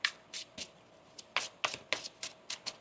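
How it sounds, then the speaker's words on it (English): Tarot cards are shuffled by hand in a dozen crisp riffling slaps, uneven in rhythm with a short pause partway, close and clear with no voice. "One more shuffle here."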